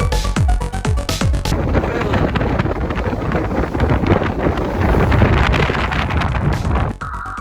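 A tour boat cruising on Loch Ness in Scotland, with heavy wind buffeting the microphone in a constant loud roar over the engine and water, a few sharp knocks near the start.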